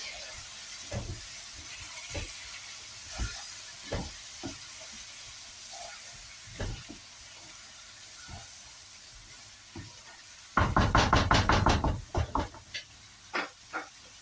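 Split green chilies hit hot oil in a pan of chicken karahi, making a steady hiss with scattered pops, and then a louder burst of sputtering crackles near the end.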